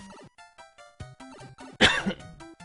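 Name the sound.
cough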